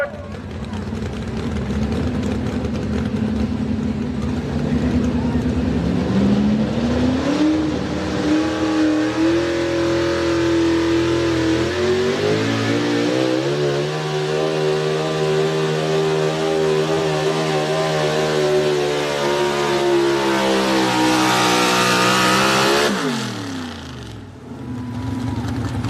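An old-school Ford truck engine revs hard at a truck pull, a long loud roar that climbs and strains in pitch for about twenty seconds before cutting off, with a crowd and an announcer heard under it.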